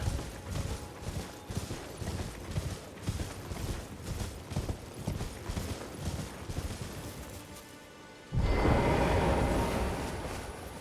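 Horse hooves galloping in Elden Ring, a steady rhythmic clip-clop of a ridden horse moving at pace for about eight seconds, then giving way to a louder, sustained wash of sound near the end.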